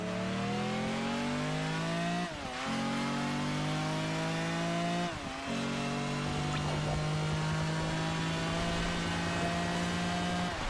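Mercedes CLK engine in Project Gotham Racing 4 drones loudly and steadily, its harsh buzzing note climbing through the revs, dipping briefly at two gear shifts, then holding a sustained rasp.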